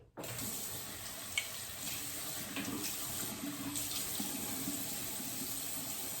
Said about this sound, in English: you wet the sponge and you rub it on here and it creates a lather